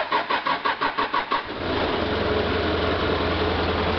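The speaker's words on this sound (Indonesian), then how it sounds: "mari, anak kuncinya kita nyalakan." A forklift engine is started with the key in a warehouse: several rhythmic starter cranks, then the engine catches and settles into a steady, fairly loud idle.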